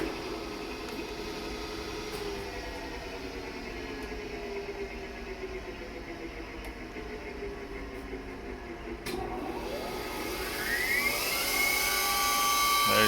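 A Brown & Sharpe #2 ID/OD grinder's internal grinding spindle runs with a steady high-pitched whine and hiss, a sweeping tone rising near the end as it spins up or changes speed, with no talk.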